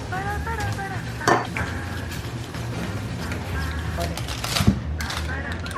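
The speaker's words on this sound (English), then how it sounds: "I'm frying rice back in the background, that's that extra noise" Rice frying in a pan sizzles steadily in the background with stirring scrapes and the clink of utensils, while someone talks over it.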